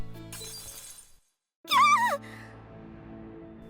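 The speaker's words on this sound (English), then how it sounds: "A loud shriek paired with the sound of glass shattering echoed throughout the cafe." In a visual novel video game, after a brief silence, glass shatters in a sharp crash, joined by a high wavering shriek, then fades into a soft lingering background tone.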